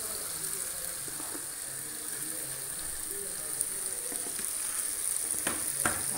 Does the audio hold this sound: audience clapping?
no